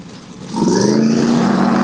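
Ford Maverick and Chevrolet Camaro drag racers at the start line, engines rumbling low then swelling into a loud, steady roar after a brief quieter idle.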